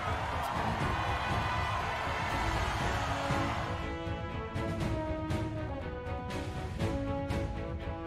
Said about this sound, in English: A round of applause for our masked victor.